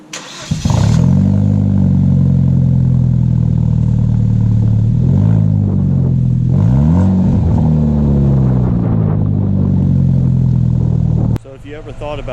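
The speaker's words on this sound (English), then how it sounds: "I'm sure you guys want to hear it with just the downpipe by itself, so here you go." A Hyundai Genesis Coupe fitted with only a new downpipe, running essentially straight-piped, starts up loud and close, then idles with a deep burble and is blipped in several rising revs before cutting off abruptly.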